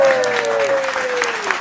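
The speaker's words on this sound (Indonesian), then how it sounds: "Tepuk tangan dulu dong, Put." Short burst of audience clapping for a heavy metal band amid a lively gathering, with a voice talking over the applause throughout.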